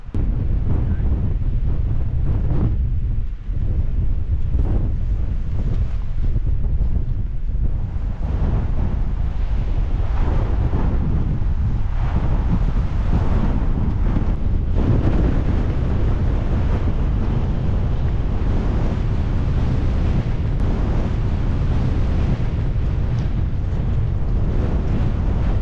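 Strong wind roars across an exposed hillside at Cautley Spout in the Yorkshire Dales during wet wild camping, buffeting the microphone in a loud, continuous, gusty rush that never lets up.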